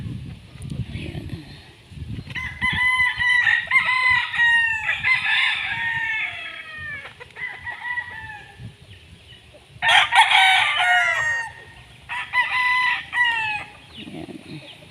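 Pet roosters crowing repeatedly in loud bursts with scattered clucks between, close by in an outdoor yard, with quieter gaps between the calls.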